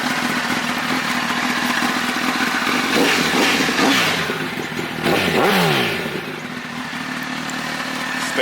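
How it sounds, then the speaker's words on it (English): A 2006 Honda CBR1000RR motorcycle engine runs loud and close, holding a steady idle with a few rising and falling revs. "this is my 2006 Honda CBR1000"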